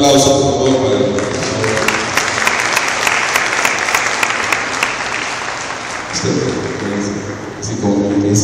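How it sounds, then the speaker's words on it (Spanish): A conference audience gives a speaker a loud, sustained round of applause, thick crowd clapping filling the room, with a voice briefly heard over it near the start and again toward the end. "Un aplauso, por favor, para él."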